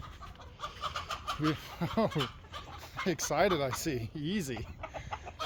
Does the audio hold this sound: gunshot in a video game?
no